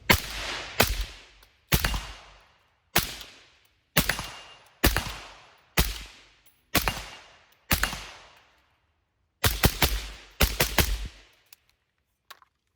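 A Desert Tech Quattro-15 quad-stack rifle fires about a dozen sharp, loud single shots, mostly spaced around a second apart with a quick pair near the end, each crack ringing out briefly outdoors with no talk.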